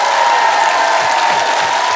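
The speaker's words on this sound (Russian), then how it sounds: "друзья, это достойно аплодисментов." Studio audience applauding on a Russian-language comedy game show, a dense, steady wash of many hands clapping throughout, loud and continuous.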